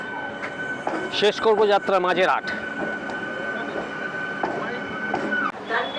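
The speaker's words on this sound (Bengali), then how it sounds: "বাগবাজার থেকে ছেড়ে দিল ট্রেন" Kolkata Circular Rail train pulling out of Bagbazar station on an evening run, steady rail rumble with brief wheel squeals and clatter, someone talking over it.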